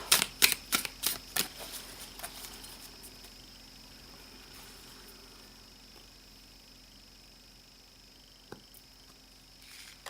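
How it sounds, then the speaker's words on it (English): Quick crisp clacking of tarot cards in a rapid burst of riffles, then a quiet stretch with a single soft tap near the end. "Let's do a last little shuffle up."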